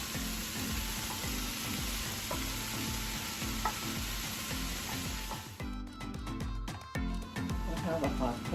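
Red, green and yellow sweet peppers sizzle loudly in a hot pan with a continuous crackling hiss that shifts to a choppier sizzle as they are stirred, while someone talks.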